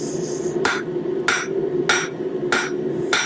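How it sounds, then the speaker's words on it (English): A hammer strikes a hot forged steel bottle opener on an anvil, hammering down its corners: five sharp, ringing blows at an even pace, close and loud, with no speech. "hammering down the corners"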